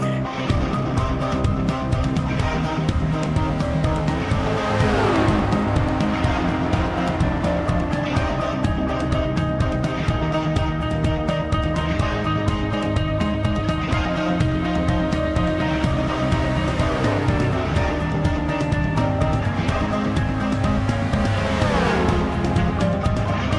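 A field of race cars roars around a Las Vegas track in a Sony Cup Series race, a steady, loud, layered engine drone with rising and falling pitch as cars shift and pass.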